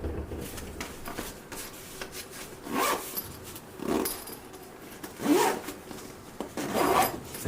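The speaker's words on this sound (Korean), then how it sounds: "케이스는 위쪽에도 지퍼가 있고요. 아래쪽에도 지퍼가 있어가지고" Zipper on the carrying case of an Everest oil lamp stove, drawn in four or five short rasping strokes spaced about a second apart, close and fairly quiet, with no voices.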